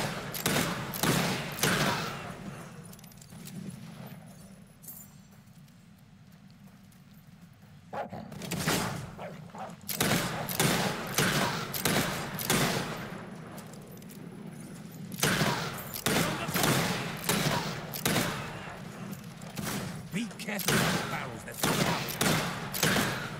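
Gunfire from a traitor in Fable 3 rings out as rapid, loud bursts of shots in clustered volleys, with a quieter lull between them and a voice talking at points.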